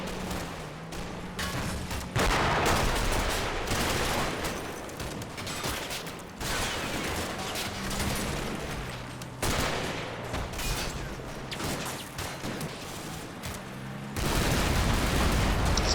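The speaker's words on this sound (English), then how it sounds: "Commander ducks in as he comes under heavy fire." Heavy gunfire from WWII combat in the Combat Mission wargame, a Panzer II, PSW armoured car and Humber nearby: dense bursts of automatic fire and booms in repeated volleys, loud and close, with short breaks between them.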